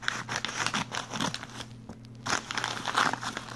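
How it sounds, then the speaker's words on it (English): Scissors cutting open plastic wrapping around a pink leather Franklin Covey day planner, giving close crinkling, snipping and tearing bursts in an irregular rhythm with a brief quiet gap midway. "So luckily I have my scissors here, so I'm just gonna like cut it open."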